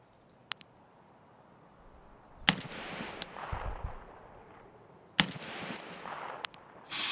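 Two sharp, loud gunshots from a weapon in the shooter Escape from Tarkov crack roughly three seconds apart, each trailing a rumbling echo, with small faint clicks in the quiet between.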